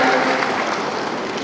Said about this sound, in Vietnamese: Rồi vỗ tay to chào nhau đi.